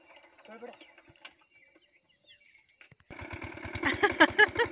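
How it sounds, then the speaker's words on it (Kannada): A motor pump starts up beside a farm pond to drain the water, settling into a loud, steady rhythmic chugging after a quiet stretch of faint bird calls and light background noise. "ಇಲ್ಲಿ ಮೋಟ್ರು ಸ್ಟಾರ್ಟ್ ಮಾಡಿ ನೀರನ್ನು ಹೊರ ತೆಗೆದ್ರೆ ಮೀನು ಬರ್ತಾವಂತೆ"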